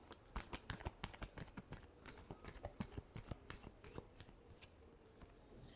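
Tarot cards riffled and shuffled by hand in a quick run of crisp, papery flicks and slaps, close and fairly quiet, with no voice over them.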